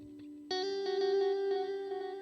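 Electric guitar, a 75th Anniversary Evertune Strat, playing a sustained note then a new chord through a big delay effect, with repeating echoes pulsing under the ringing tone, loud and close.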